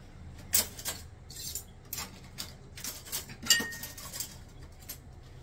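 Light, scattered metallic clinks of spoons being handled and set down, a string of small taps at close range.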